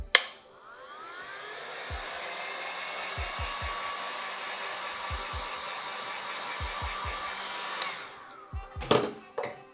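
A heat gun blows steadily on colored cocoa butter for chocolate painting, a close, even whooshing hum lasting several seconds, with soft repeated thumps beneath and clatter as it shuts off.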